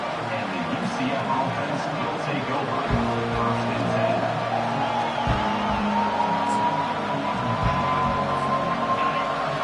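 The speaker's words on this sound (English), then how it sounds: "Listen to the crowd energy here in the early going" Football stadium crowd noise spreads as a broad steady roar with scattered cheers and whoops, continuous and fairly loud beneath a commentator's talk.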